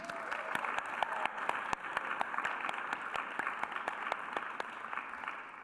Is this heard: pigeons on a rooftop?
no